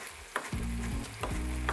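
Sliced leeks and king oyster mushrooms sizzle and fry steadily in a hot pan, with a couple of brief clinks and stirring scrapes over the constant crackle, close up.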